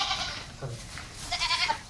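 A billy goat bleats a few times inside a free-stall cattle shed on a village farm, moderately close but fairly quiet against the low background of the shed, with no talking.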